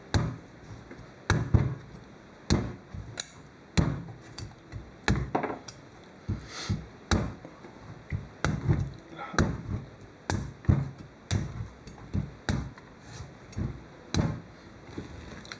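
A kitchen knife strikes into a whole potimarron squash in a series of small, sharp, close taps, spaced irregularly about a second apart, with quiet background noise between blows.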